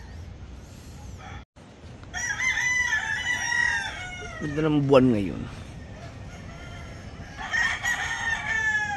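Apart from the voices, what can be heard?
rooster crowing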